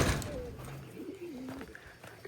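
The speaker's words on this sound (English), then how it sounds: "Y'all see the crown pigeons this morning?" Crowned pigeons give low, hollow booming coos, a few drawn-out calls close by that rise and fall in pitch, over faint outdoor background noise.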